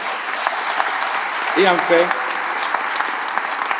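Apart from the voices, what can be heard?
audience applause at a museum inauguration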